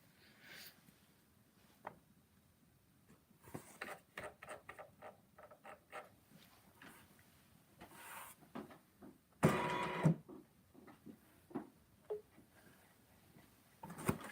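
A hybrid sewing and embroidery machine with a large embroidery field stitches a basket in quiet, uneven bursts of rapid mechanical whirring and tapping, with pauses between runs and one louder, harsher stretch near the end.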